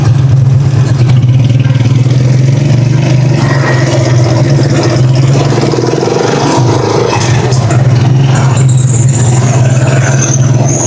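A Rusi Chariot 175 motor trike engine idles close by, a loud, steady low hum with a faint mechanical clatter that stays even throughout, and no talk over it.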